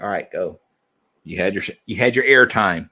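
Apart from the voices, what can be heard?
None of the usual background noises is heard.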